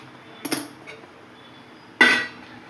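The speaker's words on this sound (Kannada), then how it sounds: "ಒಂದು ಪಾತ್ರೆ ಮಡಗ್ತೀನಿ" A metal cooking pot is set onto a gas stove, making two sharp clanks about a second and a half apart, the second louder and ringing briefly, against a quiet kitchen with no talking.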